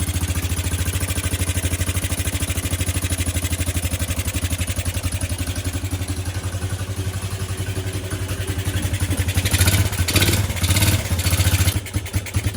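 Suzuki LT125 quad runner's small single-cylinder engine running steadily after starting, a close, loud, even putter with a brief uneven stretch near the end.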